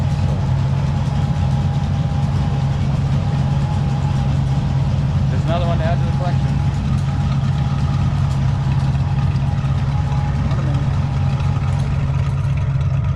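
An old farm tractor, one of a fleet used for mowing road ditches, idles with a steady low rumble throughout, while someone talks over it.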